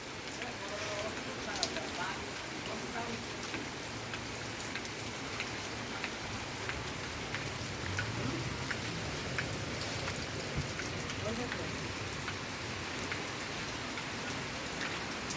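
Steady rain pours down continuously in a rural village, a dense hiss of drops on surfaces with scattered louder patters, no breaks throughout.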